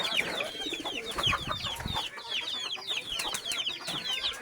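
A crowded mix of chickens and pigeons at feeding time, busy overlapping clucks, coos and chirps close by, with scattered scuffling and a brief voice in the background.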